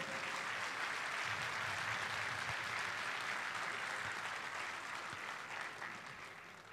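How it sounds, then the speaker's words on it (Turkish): Sustained applause from an audience at an award ceremony in Tokat, a dense, even clapping wash that stays loud throughout and tapers slightly at the end. "Sevgili Mahmut Hekimoğlu'nu da bir alkışlar mıyız efendim?"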